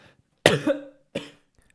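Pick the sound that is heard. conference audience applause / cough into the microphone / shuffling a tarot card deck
cough into the microphone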